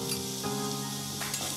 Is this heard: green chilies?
yes